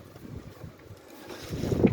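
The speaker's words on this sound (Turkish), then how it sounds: "Şurada çok rüzgar var." Wind buffets the microphone with low, rumbling gusts that swell louder toward the end, outdoors with no one speaking.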